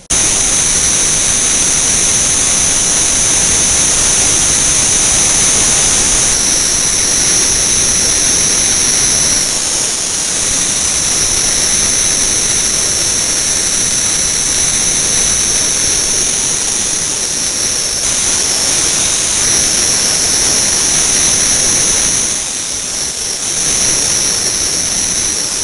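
An angle grinder fitted with a Merit surface prep disc strips paint from steel, a loud, continuous high-pitched whine over dense gritty hiss that holds steady throughout with only slight dips in load.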